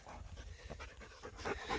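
A female dog pants quickly and faintly outdoors during an elk antler shed hunt, a soft steady breathing rhythm with no talk over it.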